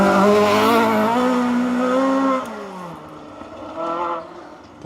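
A rally car driven by Paul Barrett and Golden Noble on a stage of the 2025 RAC Rally roars past, its engine note loud and rising, then falling as it moves away, before a second swell of engine noise near the end.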